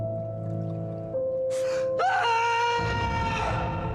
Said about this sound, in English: It's a good scream.